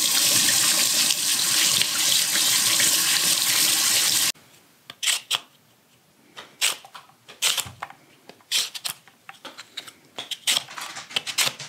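Tap water runs steadily into a kitchen sink while sweet potatoes are washed, then stops abruptly, leaving close clunks, knocks and splashy handling noises of the potatoes being rinsed and moved about.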